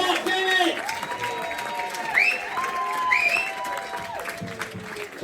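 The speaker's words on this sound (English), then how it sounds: "Everybody copy April. And start cheering." A comedy club audience claps and cheers steadily under a bright, warbling electronic tone that repeats several times, making the crowd noise sound continuous and somewhat masked.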